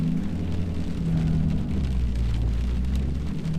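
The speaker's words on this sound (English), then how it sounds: "It's been raining since I went to work at 5:45 this morning." Steady rain falls outdoors at a workshop, a dense continuous hiss with a low rumble underneath, even and unbroken throughout.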